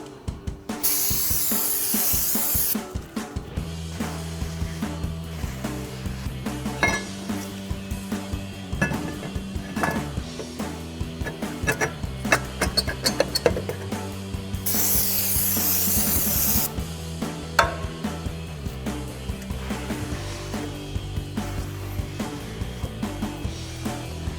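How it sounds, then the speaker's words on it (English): Brake cleaner hisses from an aerosol can onto a drilled and slotted brake rotor of a 2009-2020 Dodge Challenger GT in two long, loud sprays, about three seconds each, over a steady clattering, humming background. "spray down the surface of the rotor, give it a good wipe"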